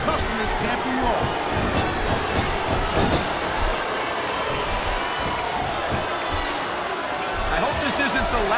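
A capacity arena crowd in the wrestling video game WWE SmackDown vs Raw 2007 roars and chants as a dense, steady wash of noise that runs for the whole stretch.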